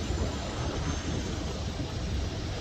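NYPD police helicopter flying overhead in Jamaica, Queens: a steady, loud, broad rotor-and-engine roar that fills the whole moment with no break.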